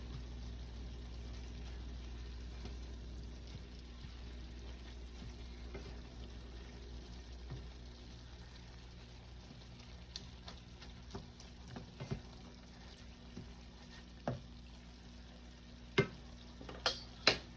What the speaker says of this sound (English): let this simmer to get the flavors of the salsa, the spices, everything going through your meat